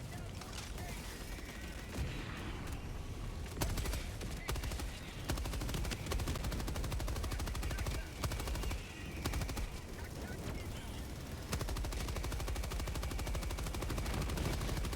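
Sustained machine gun fire in the shooter game Helldivers 2, loud and dense bursts with brief pauses, mixed with other gunfire and battle mechanisms.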